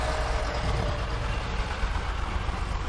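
A vehicle passes on a nearby road. It makes a steady, broad engine rumble lasting about three seconds, fairly loud and close, with no voices.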